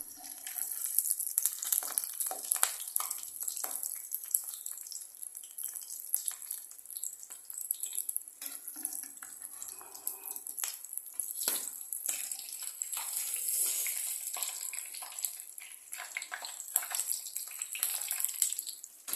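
Egg bajji frying in hot oil gives off a steady, bright sizzle and fine crackling, moderately close and unbroken, with no talk over it.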